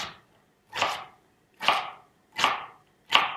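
Knife strikes chopping through the second half of an onion on a cutting board, four sharp evenly spaced chops about a second apart, close and clear with quiet gaps between, no talk.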